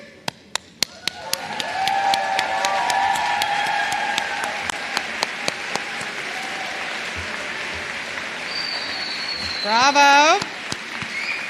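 Commencement audience at a graduate school ceremony breaks into sustained applause, scattered sharp claps at first and then swelling into a dense wash of clapping, with a cheer and a brief whistle near the end.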